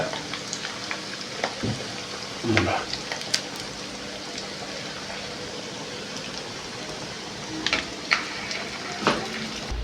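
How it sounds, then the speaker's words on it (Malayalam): Vegetable lollipops on sticks fry slowly in hot oil, giving a steady close sizzle with crackling pops and occasional louder spatters, no voices. "ഇതേപോലെ പതുക്കെ ഇട്ട് ഫ്രൈ ചെയ്തെടുക്കണം"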